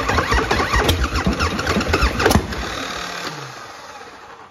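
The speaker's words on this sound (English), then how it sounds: "Yeah, it's backfiring and spluttering." A 1984 Harley-Davidson 1340 Shovelhead Wide Glide being turned over: rapid rough chugging with sharp popping backfires and spluttering, loud and close, then fading away as the engine dies out.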